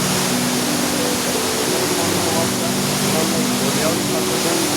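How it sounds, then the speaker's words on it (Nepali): A beautiful waterfall at Fyangdeng beside a small bamboo bridge gives a loud, steady broadband roar with no breaks, close and continuous throughout. "एकदमै सुन्दर झरना रहेको छ।"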